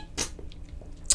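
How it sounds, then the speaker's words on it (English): Drinking from a sports water bottle produces two sharp squishy slurps about a second apart, with small clicks and soft noise between them, close and fairly loud. "that was me just drinking from my sports water bottle"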